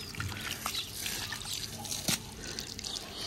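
Water from an electric pump motor pours into an enclosure, making a steady close trickle and splash with scattered drips and one brief louder splash.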